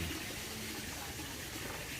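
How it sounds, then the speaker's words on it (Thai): Water pours steadily from an artificial waterfall in a garden, a constant rushing splash heard close and continuous with no voices. "มุมน้ำตกจำลองนะครับ"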